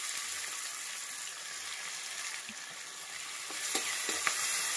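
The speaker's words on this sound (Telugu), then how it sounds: "లైట్గా వేగిందండి. ఇట్లా టమాటాలు వేసుకుంటున్నాను." Tomatoes fry in a pan, giving a close, steady sizzle and crackle that swells slightly toward the end, with a few soft clinks of stirring.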